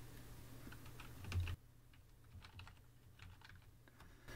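Quiet typing on a computer keyboard into a web browser's address bar: a light, irregular run of close key clicks over faint background hiss.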